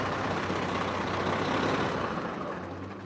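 A truck engine runs with a loud, steady, dense rumble close by, holding constant before easing slightly toward the end.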